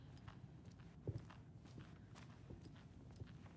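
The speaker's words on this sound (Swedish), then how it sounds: "jag hör fotsteg" Footsteps crunch along in the horror game Alan Wake 2, soft repeated steps with one heavier thud, set under a constant low ambient drone.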